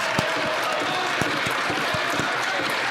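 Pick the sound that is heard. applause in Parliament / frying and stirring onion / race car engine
applause in Parliament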